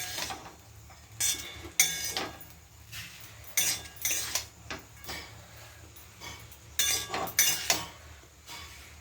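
A utensil stirs chow mein with masala in a pan, giving intermittent metallic clinks and scrapes in irregular bursts against a quiet background, with no talking.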